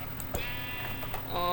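Sheep bleating in a Minecraft modpack game, a couple of short nearby bleats over a quiet game background.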